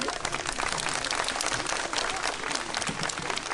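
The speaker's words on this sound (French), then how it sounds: "on va faire un petit test d'applaudissement" Steady, dense applause from a live audience in Amiens, France, continuous and loud throughout with no pauses.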